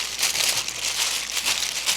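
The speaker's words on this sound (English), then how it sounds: "And then I'm going to use the aluminum foil" Close crinkling of aluminum foil laid over a lasagna pan, a continuous crackly rustle with small bursts, no voices.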